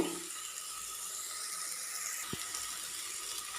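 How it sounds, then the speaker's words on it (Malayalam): A steady stream of water pours and splashes into a cooking pan of okra stir-fry, a continuous hissing pour with one brief knock partway through. "ഞാനൊരു കാൽ ഗ്ലാസ് വെള്ളം ചേർത്ത് കൊടുത്തിട്ടുണ്ട്"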